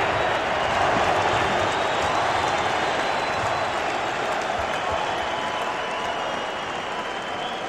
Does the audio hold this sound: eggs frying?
no